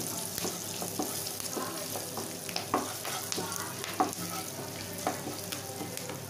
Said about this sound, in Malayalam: ഉള്ളി ചെറുതായിട്ടൊന്ന് ഇളക്കി കൊടുത്തതിന് ശേഷം